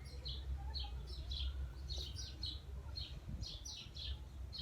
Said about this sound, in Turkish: Kuş cıvıltıları çok güzel.